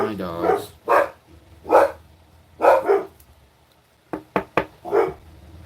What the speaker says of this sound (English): Oh man, my dogs.